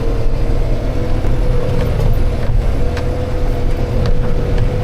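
A New Holland T5.140 tractor works very hard, compacted field soil and strains under the load. Its engine holds a loud, close, steady drone with a constant hum and deep rumble, and no voices are heard.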